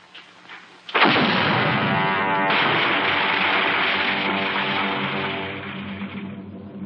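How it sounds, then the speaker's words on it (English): Cannon fire in a 1950s film of the Pied Piper of Hamelin, a sudden loud booming blast that swells into a long rumbling roar with a second surge, continuing for several seconds. "The last shot is fired"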